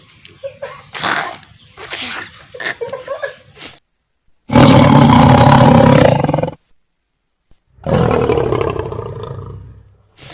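A voice imitates a tiger or lion roar. Some short, scattered vocal noises come first, then two long, loud, raspy roars separated by a brief pause.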